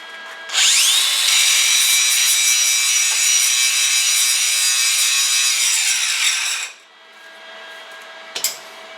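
A power tool, likely a grinder or wire wheel, cleans up metal on a 2021 F150 catalytic cover before a nut is welded. It winds up and runs at a loud, steady whir for about six seconds, then spins down, followed by a brief clank.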